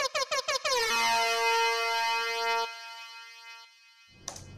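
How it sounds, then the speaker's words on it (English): Balloon foghorn effect recorded from a real balloon through a microphone and played in Ableton Live: a loud, deep, brassy horn blast with rich stacked harmonics, preceded by a few short choppy bursts, sustaining for about two seconds before fading. "how to make the balloon foghorn"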